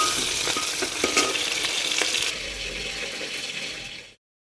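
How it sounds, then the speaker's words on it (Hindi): Fenugreek seeds, cumin, asafoetida and onion frying in hot oil inside a pressure cooker, a loud close sizzle with a few stirring scrapes that eases slightly before cutting off abruptly. "कुकर में तेल जब गर्म हो गया है तो उसमें मेथी डाल दी है, जीरा डाल दिया है, हींग डाल दिया है, उसके बाद डाल दिया है प्याज"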